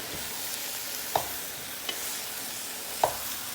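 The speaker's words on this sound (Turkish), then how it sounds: "Ortalama 2-3 dakika salçayla patlıcanları kavurmaya devam edeceğim." Eggplant being fried with tomato paste in a pot, a soft continuous sizzle with a few faint clicks of a stirring utensil against the pot.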